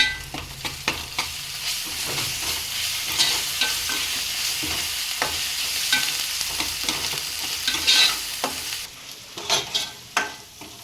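Onion paste fries in a pan with ginger garlic paste and turmeric, giving a continuous close sizzle under repeated stirring and spoon scrapes that grow more clattery toward the end.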